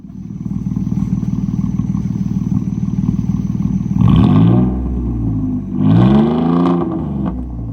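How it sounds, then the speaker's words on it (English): A 3.0 litre V6 in an Audi A4 B6 with a straight pipe exhaust idles with a loud, lumpy burble, then is revved twice in sharp rising and falling sweeps, close and raw. "Just rev it. Don't go to red line."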